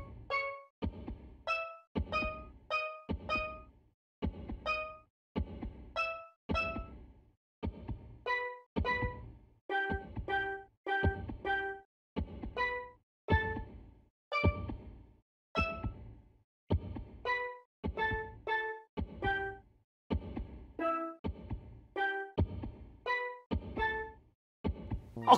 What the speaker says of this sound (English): the heartbeat sound effect was there to make sure the notes are